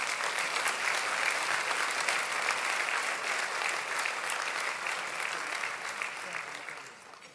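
An audience applauds warmly to welcome Federal Treasurer Jim Chalmers at an economic address, a dense, steady roar of clapping that fades out toward the end, no speech over it.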